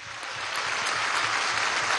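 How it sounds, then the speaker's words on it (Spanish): Applause from political party members at a meeting in a municipal theatre in Caracas, a dense, steady wash of many hands clapping that holds at an even, loud level throughout. "Un aplauso a la dirección política de Caracas"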